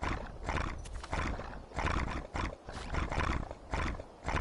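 A night steed horse in a video game snorts and whinnies in loud, repeated bursts, with heavy breathing and rough grunts coming in uneven pulses close by.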